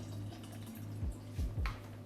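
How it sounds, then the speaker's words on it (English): Plain original Malibu rum pours into a jungle juice mix, with a few soft gurgles and splashes of liquid over a steady low background hum. "So we're gonna pour about half of it in there."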